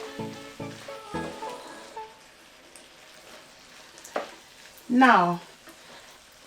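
Minced meat for lasagna frying and being stirred in a pan, with scraping stir strokes early on and a loud burst of sizzling near the end; a voice speaks briefly.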